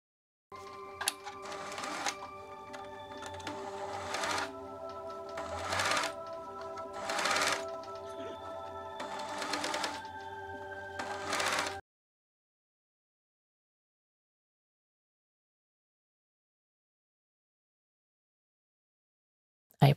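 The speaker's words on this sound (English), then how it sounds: "Let's understitch now." A sewing machine understitches the facing of a gathered tiered dress, running in several bursts of steady close stitching for about twelve seconds, then stopping into silence.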